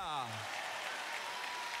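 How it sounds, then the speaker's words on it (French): A church congregation at Lakewood Church claps in faint, distant applause, following a brief sung or spoken vocal tone at the very start. "Applaudissons-le."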